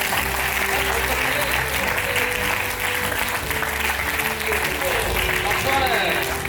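An audience at a school sports achievements event applauds steadily, a dense wash of clapping from many hands that carries on throughout, with a voice talking over it.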